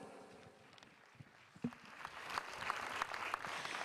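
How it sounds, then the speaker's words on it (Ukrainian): Scattered clapping from an audience at a festival opening, starting sparse and quiet, then building into fuller applause near the end. "Ваші оплески."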